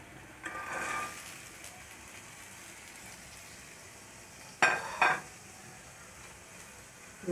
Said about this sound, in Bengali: মশলাগুলোর সাথে বিচিগুলো একটু নাড়াচাড়া দিয়ে ভালো করে মিশিয়ে